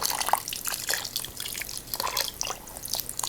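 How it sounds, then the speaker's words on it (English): Vinegar trickling and dripping as it is poured into soaking clay, a close, light liquid patter with small splashes that runs steadily. "So pouring in the vinegar"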